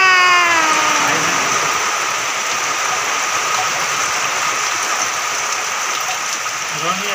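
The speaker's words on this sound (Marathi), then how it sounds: "आज खूप ऊन तपलं होतं म्हणून असा पाऊस आला. तर चालूच आहे जोर जोरानं." Heavy rain pours steadily onto a house in a dense, continuous hiss, loud and close, with a short descending whistle-like tone fading at the very start.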